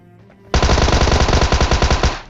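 Rapid automatic gunfire in PUBG Mobile during a jump, a loud, close burst of evenly spaced shots that starts abruptly and runs for nearly two seconds.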